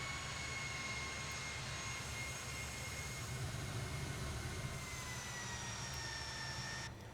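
Steady whine and low rumble of Fokker F28 jet engines spool up in a flight simulator as the airliner begins to taxi, a continuous tonal drone with high-pitched turbine lines holding throughout.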